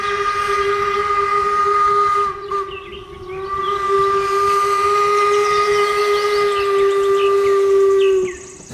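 A blue toy train locomotive whistle sounds a steady, shrill multi-tone blast for about eight seconds with a steamy hiss, briefly dipping partway through.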